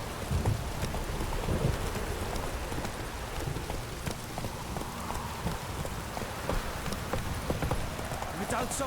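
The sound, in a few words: rain and thunder in a video game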